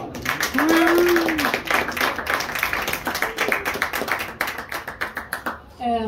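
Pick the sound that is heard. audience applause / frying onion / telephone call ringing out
audience applause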